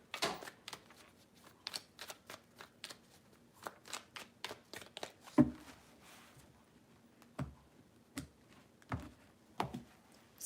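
Hand shuffling of tarot cards, a steady series of sharp, close card taps and short riffles spaced evenly across the stretch, with one firmer knock near the middle, quiet, no voices.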